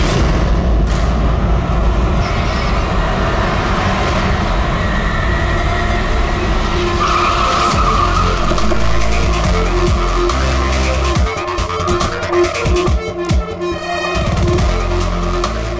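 A driverless car moves along with a loud, continuous rumble of engine and road noise. Near the end there are harsh scraping, skidding bursts.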